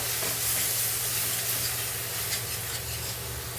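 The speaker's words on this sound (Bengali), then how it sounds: "এখন পেঁয়াজটা ভালো করে কষিয়ে নেব" Onion paste fries in a pan for prawn malai curry, sizzling with a continuous bright hiss and soft scraping of stirring, steady and close throughout.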